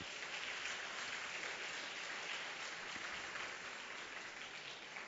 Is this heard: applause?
yes